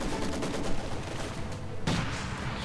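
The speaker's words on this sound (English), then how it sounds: "Grenadiers getting suppressed by Nemo Maxim" In a video game, a Maxim machine gun fires to suppress grenadiers: dense, continuous automatic gunfire with heavy low booms of battle, loud and unbroken, with no talking.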